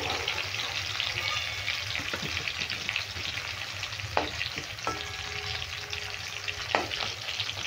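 Pointed gourd (potol) pieces sizzle steadily in hot oil in a home kitchen, a continuous close frying hiss broken by a few light clinks of a utensil against the pan.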